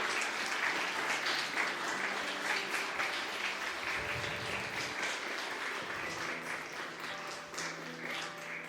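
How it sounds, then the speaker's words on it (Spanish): A church congregation claps together in praise, a dense sustained round of applause that runs steadily throughout, fairly loud and close, with no talking over it. "Unas palmas al Señor."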